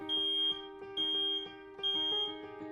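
A smoke alarm sounds a rapid, insistent pattern of shrill electronic beeps over a constant piercing tone, repeating in loud bursts about every half second, with no voices.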